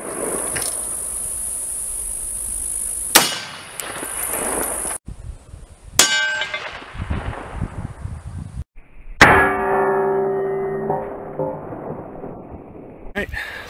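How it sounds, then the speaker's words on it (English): 300 Blackout Barnaul 147-grain full metal jacket rounds strike body armor plates, producing a few loud, sharp metallic clangs spaced seconds apart, each followed by a bright ringing decay. "now we're gonna try that Barnaul 147 grain full metal jacket"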